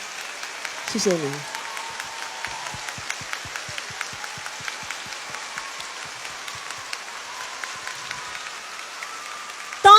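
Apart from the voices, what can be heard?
audience applause for the Shanghai Symphony Orchestra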